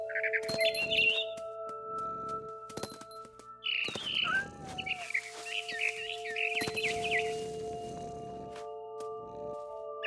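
Barn swallow chirping in the What Remains of Edith Finch video game: scattered bright twittering bursts and short calls over steady tonal game music and soft rustles, with no talk.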